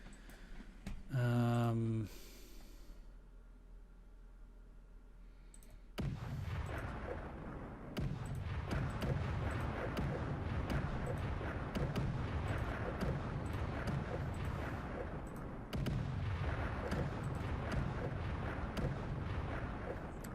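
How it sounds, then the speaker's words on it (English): Artillery shelling in the Stalingrad war game Cauldrons of War, with a loud opening blast and then a long, dense barrage of booms and rumbling impacts that keeps rolling with little pause. "Shelling is currently the only thing I can do against that army."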